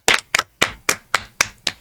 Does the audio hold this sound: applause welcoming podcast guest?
yes